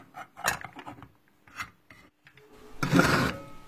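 A saw fitted with a new blade cutting into solid wood for a fitted kitchen cabinet project, giving a few short rasping strokes followed by a louder, longer rough cut, close up and with no talk.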